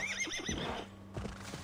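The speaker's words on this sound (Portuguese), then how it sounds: "Não sei se é só o cavalo do Eivor que anda na água" A horse in Assassin's Creed Valhalla whinnies loudly with a rising-and-falling neigh, followed by a few clip-clopping hoofbeats and snorts, close and clear with no talk over it.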